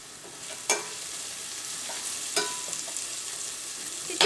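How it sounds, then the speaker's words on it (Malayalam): Shallots, garlic and curry leaves frying in coconut oil for a tomato curry, a gentle even sizzle with three clear stirring scrapes spaced apart, close and alone without talk. "ഈ ചുവന്നുള്ളിയും വെളുത്തുള്ളിയൊക്കെ ഈ വെളിച്ചെണ്ണയിൽ കിടന്ന് നന്നായിട്ടൊന്ന് മുരിയണം"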